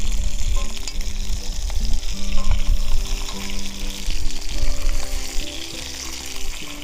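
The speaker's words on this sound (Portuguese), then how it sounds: "Vamos deixar a carne então tostar bastante bem." Meat sears in hot olive oil in a pan, a steady close crackling sizzle with occasional stirring scrapes, no voices over it.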